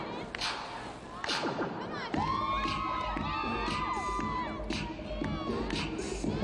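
Teammates cheer and shout from the sidelines during a women's college gymnastics floor routine in a crowded arena, a loud continuous roar of whoops and yells with a few thuds, and a voice talking beneath.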